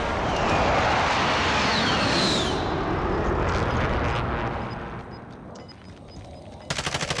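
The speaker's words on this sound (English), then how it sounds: "Allied precision airstrike incoming." An allied precision airstrike in a multiplayer shooter: a dense, roaring barrage of rapid explosions and gunfire with a jet sweeping past, loud and sustained before easing off, then a short rattling burst at the end.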